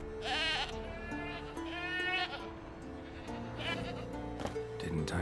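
A goat bleats loudly in The Witcher 3, tied to a stake as forktail bait, its wavering cries repeating over game music and a voice.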